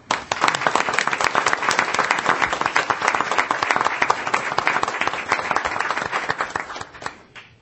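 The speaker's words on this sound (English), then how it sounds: "if we could give them a big round of applause" A school board meeting audience gives a big round of applause for students called to the podium, with dense, steady clapping close by that continues throughout before tapering off at the end.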